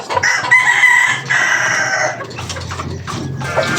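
An Alabama black rooster crowing close and loud, one full cock-a-doodle-doo followed by softer clucking and other fowl calls in the background.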